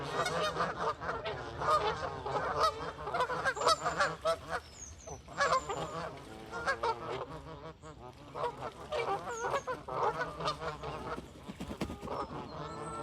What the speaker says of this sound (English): Looks like they're all having a go at one goose, the one to the far right.